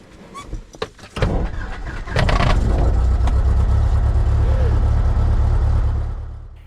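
A Cessna 172S piston engine cranks with a few irregular bursts, then catches and settles into a loud, steady idle drone for several seconds before easing slightly, heard close up.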